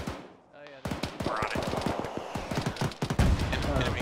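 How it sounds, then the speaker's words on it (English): Rapid bursts of heavy gunfire crack across a battlefield in the ArmA military video game, a dense run of loud, closely spaced shots with other gunfire mixed in and voices talking over it. "We got some sort of heavier gun from the east."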